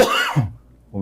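A single short, sharp cough bursts out and drops away quickly, close and alone, followed by a moment of near-silence before a voice begins again.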